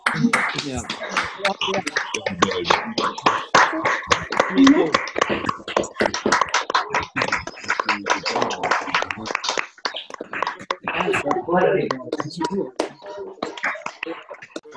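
Participants on a video call clap with open microphones, a scattered, uneven run of sharp hand claps from several people at once, mixed with talk and cheering voices throughout.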